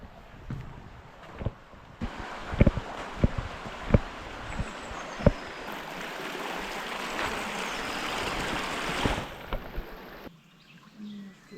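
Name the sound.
stream flowing slowly in Cappadocia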